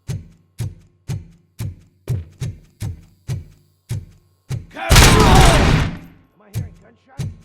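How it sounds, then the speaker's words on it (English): Gunshots go off in a slow, regular series of heavy booming reports, close and loud, broken by a long burst of harsh noise in the middle, then a few more shots. "Am I hearing gunshots?"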